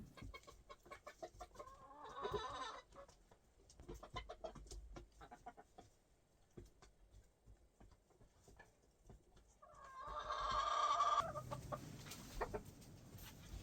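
Hens cluck and squawk nearby in two louder bursts, with scattered softer clucks and shuffling in between, as they crowd into a nest box in cold, snowy countryside.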